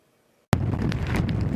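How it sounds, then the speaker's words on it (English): After a moment of silence, a sudden gust of wind from a May nor'easter in Scituate, Massachusetts buffets the microphone, a steady low roar with rustling bursts. "It's cold, it's windy"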